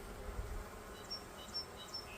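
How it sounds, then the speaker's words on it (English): Worker honey bees in an open hive produce a soft, continuous buzzing drone, with a few individual bees whining closer by in brief passes. "These are all pretty much just worker bees."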